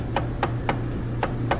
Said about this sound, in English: we're going to tap this through going that way, and we'll push the old dowel pin we have in there